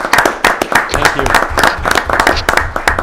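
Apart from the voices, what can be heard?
applause at a town meeting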